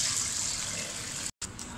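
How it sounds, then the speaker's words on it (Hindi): Broth being strained through a strainer while cooking a traditional D.I. Khan dish, a steady soft pouring and splashing of liquid, fairly faint, with a brief break near the end. "अब हम शोरबे को स्ट्रेनर में छान लेंगे।"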